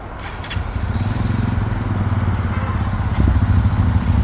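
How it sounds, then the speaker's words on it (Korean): A Bennett 125 scooter engine running right after starting, a close, loud, steady buzzing putter that swells slightly toward the end, with no talk over it. "오른쪽 시동 걸고 키 세레머니가 끝나면 스타트 버튼을 누르고"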